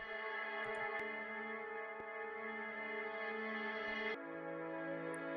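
Guitar chords held in a frozen reverb, a dense sustained wash of tones that shifts to a new chord near the end, smooth and continuous with no gaps.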